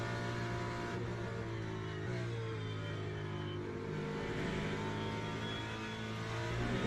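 Ford Mustang race car in Le Mans Ultimate roars steadily at high revs down the straight at Le Mans, a loud sustained engine drone with a brief gear shift, chasing a Ferrari.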